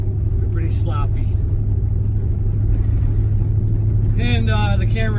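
Chevrolet S-10 pickup truck on its normal exhaust, a steady low engine drone heard from inside the cab while driving, with someone talking over it.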